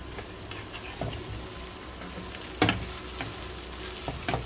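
A veggie omelette fries in a pan with a soft, steady sizzle, punctuated by a few utensil taps and one sharper knock as it is flipped, close-up and fairly quiet, no speech.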